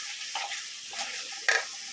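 Spice paste with water sizzling in a pan as it is stirred, a soft steady frying hiss broken by a few brief scraping stirs, faint and close, with no talk.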